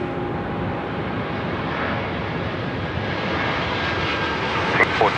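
Jet engines of a KC-135 tanker aircraft roar steadily at Sydney Airport during take-off, a continuous broad rumble heard from a distance with a faint tonal whine and a brief sharp click near the end.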